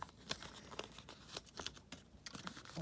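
Tape and packaging are torn and crinkled while a parcel of trading cards is opened, a string of quiet, close, sharp ripping and rustling bursts with no talking.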